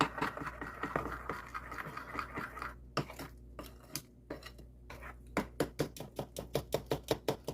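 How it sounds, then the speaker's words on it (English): A spoon stirs banana waffle batter with melted butter in a bowl, making a steady run of close scraping clicks against the side that turn into a quick, even rhythm toward the end. "I can stir this better with a spoon than a whisk."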